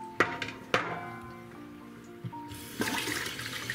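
Warm water is poured into a large pot around jars of homemade yogurt, with a few sharp clinks at first and then a splashing, gurgling pour.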